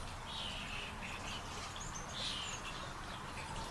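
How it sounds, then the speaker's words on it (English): Birds chirp and sing faintly in the hour before sunrise near a highway, their thin calls rising over a constant low roar of distant traffic. "that's when the birds really sing"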